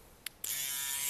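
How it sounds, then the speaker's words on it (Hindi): A metal-bodied electric hair trimmer clicks on after a brief tap and keeps up a steady, close, high-pitched buzzing hum. "ये चल पड़ा है ट्रिमर।"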